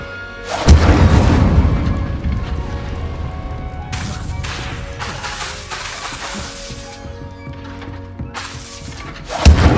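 Incendio fire spells in Hogwarts Legacy burst with a loud boom, then crackle and flare in repeated fiery whooshes, ending in another heavy blast, all without voices.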